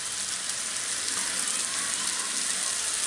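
Masala spices fry in oil in a kadai while making kadai chicken, giving a dense, steady, loud sizzle that hisses throughout with no pauses and no talking.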